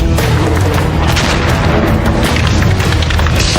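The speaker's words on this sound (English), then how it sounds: "There's bullets going off." Boxes of ammunition cooking off in a wind-whipped wildfire at a campsite, a dense, loud, continuous roar of crackling pops and booms with no pauses.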